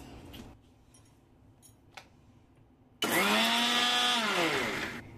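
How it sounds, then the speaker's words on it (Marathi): Kitchen mixer grinder coarsely grinding grated coconut for methi dink laddu, starting abruptly as a loud, close whirring roar that holds steady for about two seconds, then cuts off, after a quieter stretch of faint handling sounds. "आता हे खोबरं आहे की नाही आपण जाडसर वाटून घेऊया"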